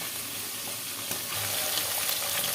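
Close, bubbling sizzle of small tengra fish frying in oil, steady throughout and getting slightly louder toward the end.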